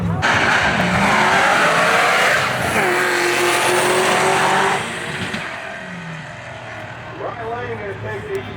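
Stick shift cars launching on a drag strip at a street car takeover event in Houston, loud engine roar with rising revs and tire noise that fades as the cars pull away, with a voice talking over it.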